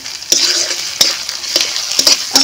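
Ground chilli and garlic paste with turmeric powder sizzles loudly in a hot pan while a spoon stirs it. Sharp scraping clacks land about every half second over the continuous close-up frying hiss.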